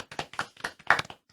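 A small group claps for themselves in a short, quick burst of several hand claps at close range, with no voices.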